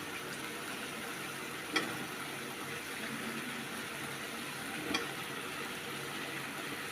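Eggplant pieces fry in a pan for a fish oil curry, giving a steady, even sizzle throughout with two soft clicks of utensils; no one speaks.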